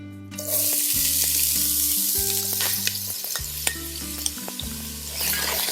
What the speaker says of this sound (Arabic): الجدر هني راح أسخن زيت الزيتون وأنزل عليه البصل